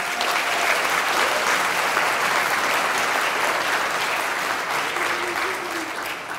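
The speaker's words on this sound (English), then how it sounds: "Give yourselves a round of applause." A large graduation ceremony audience applauds loudly and steadily, a dense wash of clapping that fades slightly toward the end.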